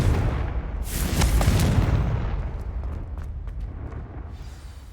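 Bombarda and Confringo spell explosions in the video game Hogwarts Legacy, loud booming blasts with a deep rumble that swells early on, then crackling debris and a fading roar.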